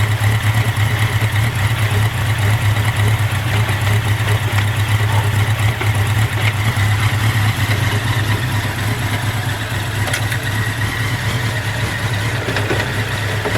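A 1983 Honda Nighthawk 650cc motorcycle runs in second gear with a steady, loud engine drone and a strong low hum that holds evenly throughout, with no voices.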